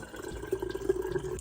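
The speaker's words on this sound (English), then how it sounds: "In each jar, I'm going to add about 8 ounces of the juice." Juice pouring from a container into a jar, a short liquid trickle with gentle bubbling and splashing, close by and soft, with no voices.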